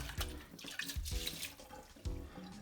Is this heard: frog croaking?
no